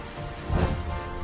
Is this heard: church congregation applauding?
no